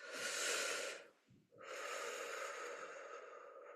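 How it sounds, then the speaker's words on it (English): A long, audible in-breath that swells over about a second, fades into a brief pause, then a second sustained breath continues steadily, close and clear with no talking, as during a guided compassion meditation. "take a deep breath into that place"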